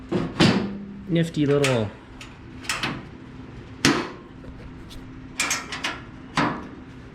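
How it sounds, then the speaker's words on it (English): A hinged cover panel on an AGT Industrial QH12R mini excavator swings open and shut, giving several sharp metal clunks and a brief squeaky hinge creak, close by, with someone talking between the knocks. "I absolutely love how this whole thing swings open"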